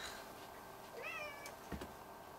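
A cat meows once, a short rising-and-falling call heard fairly close over a quiet room hum, with a brief thump just after.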